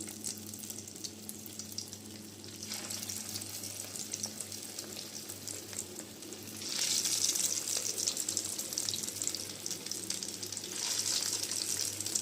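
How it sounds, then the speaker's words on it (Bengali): Onion chops sizzle in hot white oil in a frying pan, a steady close frying hiss that swells louder partway through as more chops drop in, with no talking. "তেলটা গরম হয়ে গেছে। এখন আমি এখানে বানিয়ে রাখা চপগুলা একটা একটা করে আমি এখন দিয়ে দিচ্ছি।"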